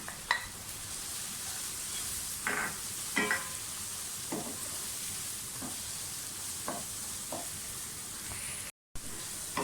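Dried fenugreek (kasuri methi) frying with ground spices in a pan gives a soft, steady sizzle, broken by a few brief scraping stirs. It stays quiet and close throughout.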